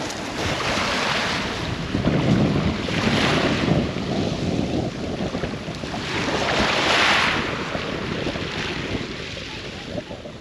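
Solent water laps at the shoreline at Lee-on-the-Solent, soft washes of surf swelling and receding in slow surges, mixed with heavy wind buffeting the microphone, with no talk.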